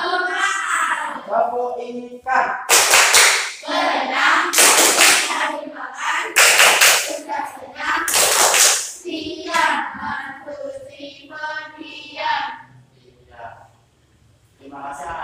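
Children in a classroom perform the 'tepuk ikan' clapping game, bursts of sharp rhythmic claps interleaved with chanted voices, close and lively before trailing off into quieter speech.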